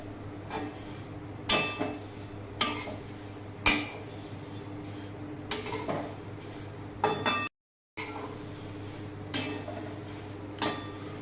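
Flattened rice (poha) dry-roasting in a pan over a very low flame, stirred with a spoon that clinks and scrapes against the metal in quiet, irregular taps, with one brief silent gap.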